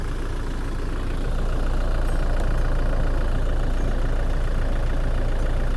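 A flood-damaged SUV engine with injector and turbo trouble idles loudly and steadily nearby, a dense, continuous mechanical rumble with an uneven throb.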